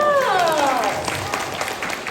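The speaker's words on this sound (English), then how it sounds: "Let's give a big round of applause" Audience applause for an elementary school student's speech in Arcadia, Los Angeles, steady clapping from a crowd with a fading tonal sweep at the start and faint voices underneath.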